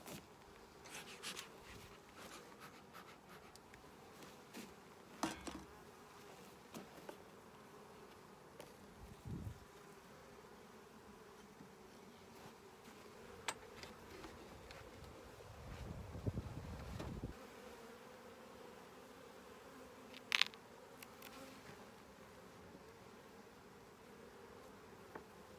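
Honeybees buzzing steadily around an opened split hive in early May in Québec, a low continuous drone with individual bees flying close past the microphone now and then, alone without talk.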